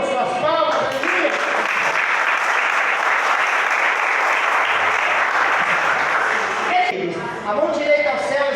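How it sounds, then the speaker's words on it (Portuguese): An evangelical church congregation claps together in praise during a worship service, sustained loud applause with a voice speaking over it at the start and end. "Louva o Senhor com suas palmas, aleluia."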